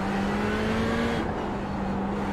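Car engine revving in a VR racing game, a steady loud droning hum with a sustained engine tone that holds throughout, no voices.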